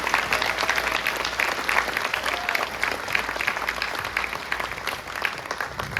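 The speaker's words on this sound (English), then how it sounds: "Give this band and our other conductor, Dr. T. Andre Fagan, a round of applause for the opening overture" Enthusiastic applause from a band camp concert audience after the band's opening overture, a dense, steady clapping wash lasting throughout with no talk.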